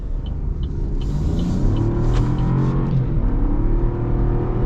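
A 2025 Buick Envista with a 3-cylinder engine accelerates hard, its engine note droning and rising steadily over a continuous low road rumble from inside the cabin, with no talking.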